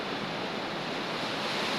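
Sea waves wash against the shore in Pangasinan, a steady, full rush of surf with no breaks. The sound may be mixed with wind against the microphone, and no voices are heard.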